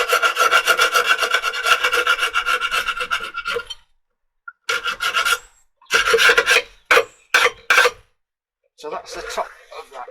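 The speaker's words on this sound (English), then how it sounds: "So it puts a good scrape all over." A scraper rasps wax off a wooden beehive frame, working over a box: a long run of gritty strokes, then shorter separate scrapes with pauses between, close and fairly loud.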